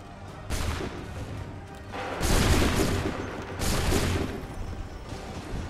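Rolling musket volley gunfire in an Assassin's Creed 3 battle, with three loud overlapping bursts of massed shots, each rising sharply and decaying in a long crackling rumble.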